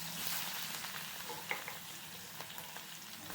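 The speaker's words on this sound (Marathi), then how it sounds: "तर त्यावर आता हे मी कांदा, आलं, लसूण, हे मिरच्या हे थोडंसं भाजून घेणार आहे।" Onion, ginger, garlic and green chilies frying in a little oil in a kadai, giving a soft, steady sizzle with a few light stirring clicks.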